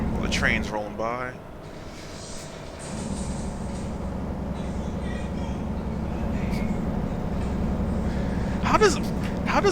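A train in the American Truck Simulator video game rolls past as a steady, low rumbling drone that builds slightly over several seconds, with someone talking over it.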